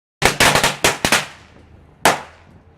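Thundercracker firecrackers go off in a rapid string of sharp, loud bangs over about a second, then a lone final crack after a short pause, with no talking.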